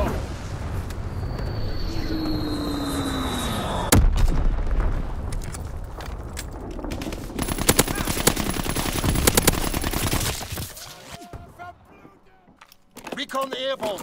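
Call of Duty: WWII match with a bombing run: sustained machine-gun fire and booming explosions fill the scene, a heavy blast near four seconds, dense crackling gunfire bursts through the middle, then quieter pauses broken by more shots, with voice callouts over the action.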